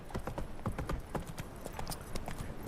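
Steady clip-clop of the horse Roach's hooves on the ground in The Witcher 3, a close, even galloping rhythm at moderate volume with faint background ambience.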